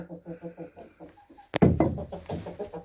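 Backyard chickens at a cabin clucking in quick rhythmic bursts close by, followed by a sudden loud knock and then louder, busier clucking and rustling.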